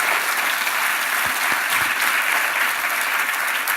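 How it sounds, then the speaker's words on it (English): A conference audience applauds a discussion panel at an enterprise and entrepreneur series launch, warm, dense clapping from a full room holding steady from start to finish. "Let's give our panel a warm round of applause"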